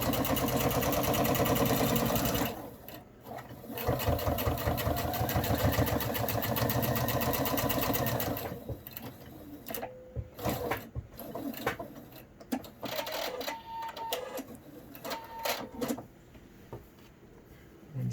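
A sewing machine runs steady bursts as it stitches to reinforce elastic along the edge of a hospital mask. It is loud and continuous for the first few seconds, then comes in shorter, choppier runs with pauses, and no one speaks.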